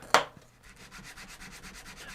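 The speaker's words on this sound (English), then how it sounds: "So I'm going to repeat the process of chalking up and sanding for each grit" A wooden guitar bridge is sanded with 120 grit paper: one sharp initial scrape, then a steady run of rhythmic back-and-forth rubbing strokes, close and fairly soft, with no voices.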